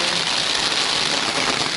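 Steady rain pours down at a dacha, an even, dense hiss with no break or voices.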